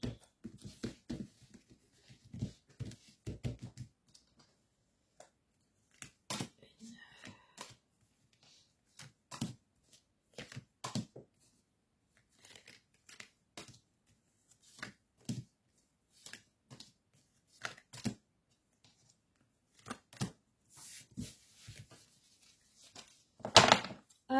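Tarot cards handled on a table, soft scattered riffles, flicks and taps in short irregular bursts separated by quiet gaps, close and faint, with a firmer snap of cards laid down near the end.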